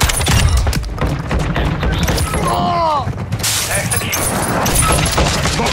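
Dense gunfire and impacts in a Call of Duty Modern Warfare II match, with constant loud shots over a busy game mix and a brief whistling sweep midway.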